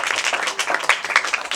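A small audience claps briefly, scattered hand claps rising and falling over a second or two, fairly faint and indoors.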